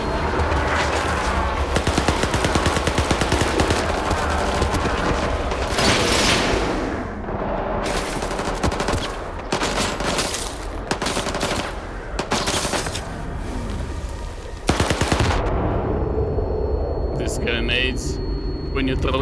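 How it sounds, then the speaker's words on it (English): Sustained machine-gun fire in the video game STALKER 2, dense loud rapid bursts with short breaks and a talking voice over the gunfire. "Okay, just let me shoot him."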